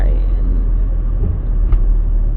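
A car climbs in third gear on a road near the Myanmar border, its engine a loud, close, steady low drone that labours without easing.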